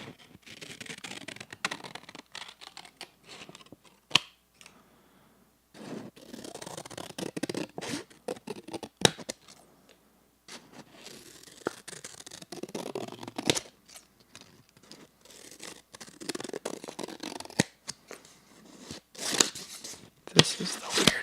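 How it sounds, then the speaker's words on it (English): Scissors snip through stiff paper index cards in bursts of crisp cutting and crinkling, close and soft, with quiet pauses between runs of cuts. "Cutting paper is supposed to be a good one, so I'm gonna cut these index cards"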